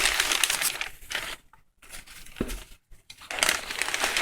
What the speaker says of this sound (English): Alright, out of the bag, let's unwrap it.